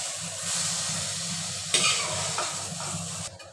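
Taro stolons (lati) crackle and hiss as they fry in a wok, a continuous close sizzle with occasional stirring scrapes and a sharper clatter midway, with no voices.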